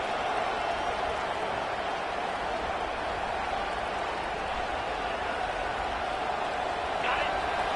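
A stadium crowd at a college football game cheers after an interception, a dense, loud, unbroken roar that fills the whole stretch.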